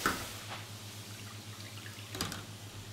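Hot cooking oil drips from a fryer basket of food lifted out of a deep fryer in a hotel kitchen, with soft irregular patters and a faint low hum throughout, followed by a brief louder clatter near the end.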